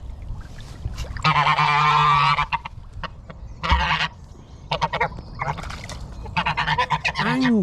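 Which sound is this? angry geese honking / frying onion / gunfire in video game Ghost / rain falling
angry geese honking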